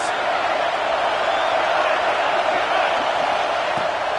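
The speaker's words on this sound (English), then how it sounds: "this crowd is coming to help the defense" A large stadium crowd at a college football game between Ole Miss and Georgia roars in a loud, steady, dense wash of noise on a late fourth-down play.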